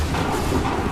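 A musket volley fired by a line of soldiers in the video game Assassin's Creed 3, a dense, loud burst of gunfire that spreads into a rumbling boom filling the whole second.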